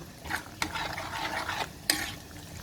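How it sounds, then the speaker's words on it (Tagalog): Pork menudo stirred in a pan after pickles and kinchay go in, a soft simmering sizzle under steady scraping, with a few sharper utensil knocks against the pot. "Sabay haluin natin."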